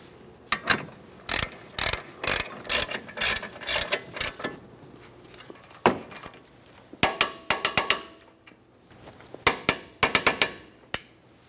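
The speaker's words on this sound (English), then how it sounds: "Start them in, snug them up, torque those to 100 foot-pounds." A ratchet wrench tightens the brake caliper bracket bolts on a Jeep Liberty in bursts of sharp, rapid metallic clicking, close and loud, with short pauses between runs and no talking.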